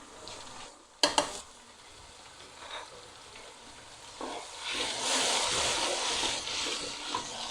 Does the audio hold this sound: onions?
yes